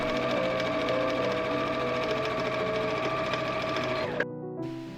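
A sewing machine stitches elastic channels on a summer dress, running in a steady, close, continuous whir before stopping abruptly near the end, followed by a brief clack.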